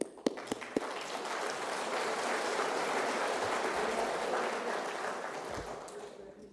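Applause from an audience at an awarding ceremony, a few sharp claps up front, then steady sustained clapping that fades toward the end.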